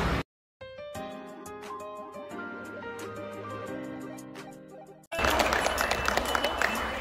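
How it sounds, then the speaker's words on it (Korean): A brief burst of noise opens, then a short gap and about four seconds of tonal music. After that, loud, dense applause breaks out and continues to the end, greeting a live variety show at a village Dano festival. "여러분 큰 박수로 맞아 주시기 바랍니다"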